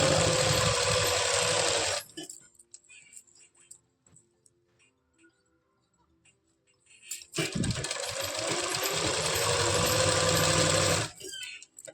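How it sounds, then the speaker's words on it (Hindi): Sewing machine stitching palazzo pant fabric, two long loud rapid whirring runs with a quiet pause between them, heard close up and alone. "पीछे से ऐसे कपड़े को खींचना है और सिलाई लगाते जाना है।"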